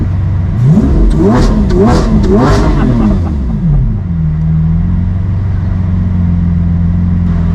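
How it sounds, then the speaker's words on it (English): Car engine revved hard several times in quick succession, close and loud, each rise climbing then dropping back before settling into a steady idle rumble. "Give it a rev."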